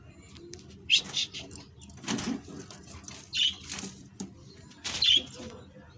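Caged pigeons flutter their wings in short bursts and give soft coos, with brief scuffling and quiet stretches in between.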